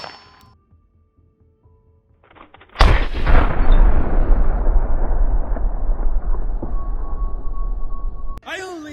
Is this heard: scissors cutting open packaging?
no